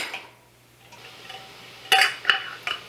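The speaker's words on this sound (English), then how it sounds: "just get a spoon and dump some out." A metal spoon clinks and scrapes against a glass canning jar while homemade salsa is scooped out, giving a few sharp, close taps.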